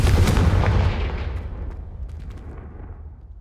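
A Confringo blasting spell goes off in Hogwarts Legacy with a loud, deep explosive boom right at the start, then rumbles and fades away over about three seconds, a few faint crackles trailing behind.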